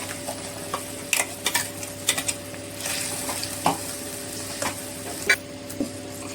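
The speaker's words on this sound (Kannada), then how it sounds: "ಈಗ ರುಬ್ಕೊಂಡಿದ್ದೀನಲ್ಲ ಮಸಾಲೆ ಹಾಕ್ತಾ ಇದ್ದೀನಿ" Ground masala being stirred in a pan for palak chicken keema, with a steady soft sizzle of frying under repeated scraping stir strokes and occasional light clinks, close and moderately loud.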